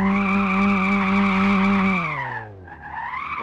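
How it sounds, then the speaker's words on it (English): A car reverse drifting in a car crash simulator video game: a loud, sustained tire squeal with a whining engine tone that drops in pitch, dips, then rises again as the skid continues. "Just reverse drifting."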